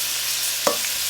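Shrimp frying in a pan for lo mein, a steady, close sizzling hiss with one sharp clack of a utensil partway through, no speaking.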